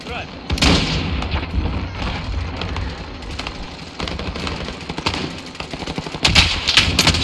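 Sniper rifle shots, from an HDR, ring out in a Warzone Rumble match amid a dense, continuous wash of game battle noise, with sharp cracks standing out near the start and end.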